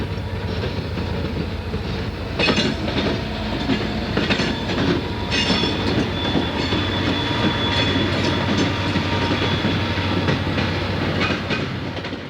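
A BNSF freight train led by a Santa Fe locomotive rumbles past, with steady wheel clatter and rolling metallic noise sustained loudly throughout.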